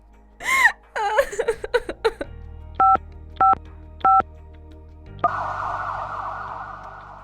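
Three short electronic keypad tones beep in an even sequence, preceded by a few quick chirps and followed by a steady hissing tone.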